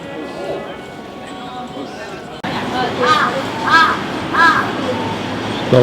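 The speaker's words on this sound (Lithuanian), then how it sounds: "Šita varna kaip toks sarginis šuo čia stovi ir karksi." A crow stands guard and caws on a Tokyo street, three or four loud harsh caws in a steady rhythm over street noise and background voices.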